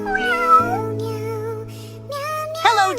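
A kitten's meows ring out over a steady low hum, with two or three drawn-out cries rising and falling and a louder final call near the end.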